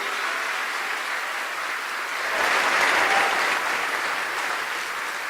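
A church congregation applauding during a Sunday afternoon service, dense sustained clapping that swells slightly in the middle and carries on without voices.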